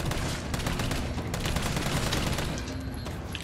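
Sustained, dense gunfire in the video game Resident Evil 3, a rapid stream of overlapping shots and impacts that stays loud and continuous, thinning slightly near the end.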